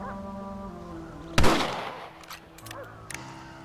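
A rifle fires once in Red Dead Redemption, a loud close crack with a ringing tail, followed by a few faint smaller clicks and knocks against low background music.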